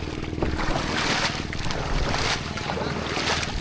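Boat engines drone steadily as four fishing boats tow a boat with a broken engine at sea, a continuous low rumble with wind buffeting the microphone and waves washing close by.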